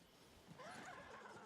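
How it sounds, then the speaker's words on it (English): A horse in the Disney Dreamlight Valley video game gives a single short whinny, clear and close, with no talking over it. "this is where I train my horses over here"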